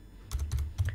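A computer keyboard clatters with brisk typing while code is entered for a Tello drone face-tracking program, three short clustered bursts of keystrokes, close and fairly soft, with no voice.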